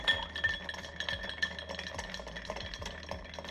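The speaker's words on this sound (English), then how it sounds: "And so now that I have those 3 ingredients in, I'm going to give this a stir." A bar spoon stirring a Negroni-style cocktail over ice in a glass, giving a steady, soft run of light clinks and swirling rattles, fairly quiet and alone.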